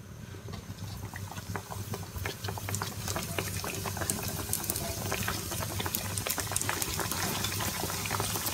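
Youtiao dough sticks deep-frying in hot oil make a dense, continuous bubbling crackle that stays loud and close throughout, with no talking.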